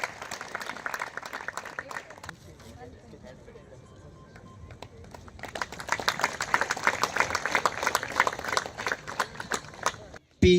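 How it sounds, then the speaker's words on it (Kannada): Loud applause from the audience at a district revenue day ceremony in Dandeli as an honoree is recognised, the clapping swelling in the second half after a quieter opening with voices. "ಜೋರಾದ ಚಪ್ಪಾಳೆ ಮೂಲಕ ಅವರನ್ನು ಅಭಿನಂದಿಸಬೇಕು."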